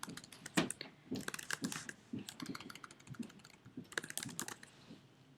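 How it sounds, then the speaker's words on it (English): Fingers type on a computer keyboard while entering a customer's details into a sales order system, with irregular bursts of close, crisp key clicks and brief pauses, and no talking. "I'm going to type in"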